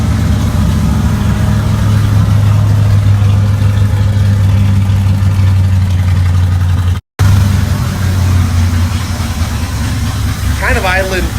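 The engine of a 1981 Chevy Scottsdale K10 truck idles roughly, a loud, steady low rumble that drops out for a moment and resumes, with a voice starting over it at the end.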